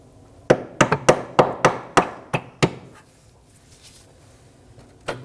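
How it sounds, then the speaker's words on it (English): Sharp metallic hammer blows strike a rear brake hose fitting on a 2015–2023 Nissan Maxima, about nine close, evenly spaced hits in quick succession, then a pause and one final strike. "I'll be striking it with a hammer."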